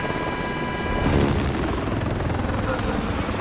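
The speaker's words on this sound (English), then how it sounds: "Get into the chopper." A video game helicopter roars loud and close with a dense, steady rotor drone that swells slightly after the first second and holds throughout.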